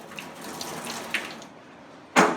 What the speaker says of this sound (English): I typically rinse these off with some lukewarm water